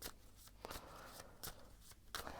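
Tarot cards are shuffled in quiet, soft bursts, several brisk riffles and crisp flicks spaced across the moment, faint and close, with no talking.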